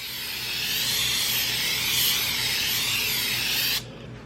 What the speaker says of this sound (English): Spray it generously with some non-stick spray.